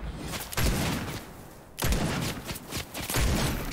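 Repeated loud gunfire from a Nighthawk weapon in a shooter video game, booming shots arriving in bursts with short gaps between them, close and punchy.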